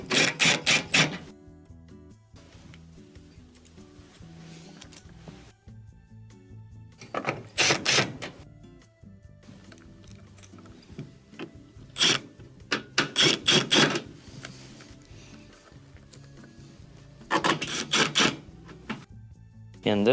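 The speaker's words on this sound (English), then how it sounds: "let's start to reinstall our screws" Screws are reinstalled during a refrigerator water inlet valve repair, heard as several separate bursts of close, rasping screwdriving spaced apart, with quieter handling noise between them.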